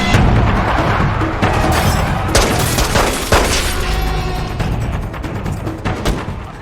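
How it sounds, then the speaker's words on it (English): A rocket-propelled grenade attack on a film motorcade erupts in loud booms and bursts of gunfire, with several sharp blasts and rumbling crashes layered over dense, chaotic noise. "Creasy ambushes Fuentes' motorcade with a rocket-propelled grenade"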